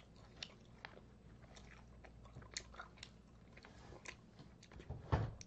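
Close chewing and biting while eating grilled pork belly with kimchi fried rice from a lunch box, soft wet crunches repeating quietly throughout, ending in one louder crisp bite.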